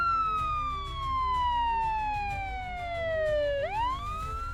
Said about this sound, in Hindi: अगली सुबह पुलिस की गाड़ी गांव में आई।